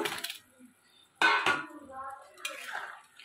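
Pieces of fried fish go into a pan of Bengali fish curry with a few separate clanks and clinks of utensil against the pan, close by and spaced out over a brief, otherwise quiet stretch.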